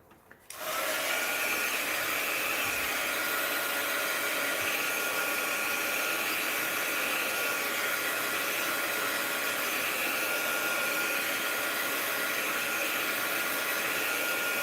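A hair dryer is switched on and runs at a steady, loud whir while drying paint on a mixed-media art journal page. The hum holds constant and close for the whole stretch with no talking.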